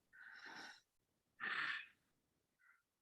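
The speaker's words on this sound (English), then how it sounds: "If we can create this sound in our throat" Two slow, raspy breaths drawn through a constricted throat, close and hissing, followed by a brief faint rasp.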